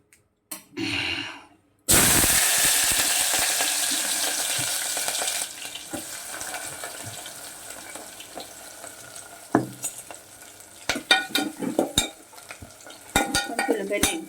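Onions hit hot oil in a pan for an eggplant and green pea masala curry, bursting into a loud sizzle that settles to a steady fry, followed by scattered clinks and stirring clatter of a utensil.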